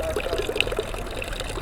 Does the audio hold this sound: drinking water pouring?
yes